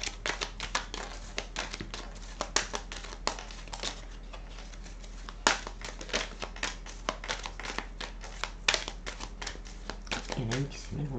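Tarot cards being shuffled and drawn by hand close up, with a dense run of quick papery flicks and slaps. A faint voice is heard at the end.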